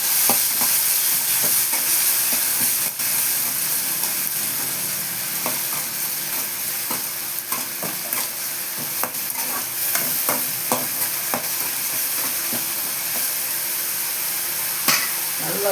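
Ground onion paste sautés in a pan for a Tamil-style chicken gravy, a continuous loud sizzle and hiss with frequent scraping clicks from stirring throughout.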